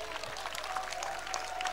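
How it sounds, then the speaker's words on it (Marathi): An audience at a Navratri festival event in Ratnagiri claps in a continuous, moderately distant round of applause, with a faint tone held underneath. "मला वाटतं सर्वांनी जरा टाळ्यांचा कडकडाट करावा."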